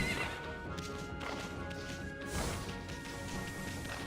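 A horse in the video game Okami whinnies over a steady game soundtrack, with a loud crashing hit partway through and hooflike clops around it.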